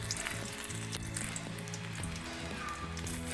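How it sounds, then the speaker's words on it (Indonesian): Shallots and garlic sizzle in hot oil in a pan, a steady close crackling hiss with faint stirring, no voices. "Pertama kita goreng bawang merah,"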